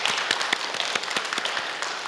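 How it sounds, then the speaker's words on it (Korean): A church congregation applauding during a Sunday service, light scattered hand claps at moderate distance, fairly soft and steady throughout. "네, 박수로 맞아주시기 바랍니다."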